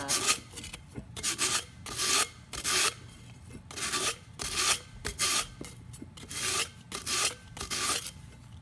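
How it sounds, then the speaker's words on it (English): Sandpaper rubbing around the rim of an epoxy glitter cup, a close, steady series of rasping strokes repeating roughly every half second with no talk. "I'm just going to sand up top here"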